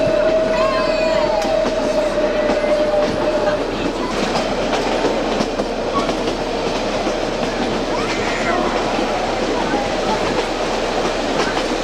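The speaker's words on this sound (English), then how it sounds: "The train is not moving very fast." Narrow gauge train rolling on rails through hilly farm country in China, a steady close clatter of wheels over track with occasional squeal and rattle, continuous throughout.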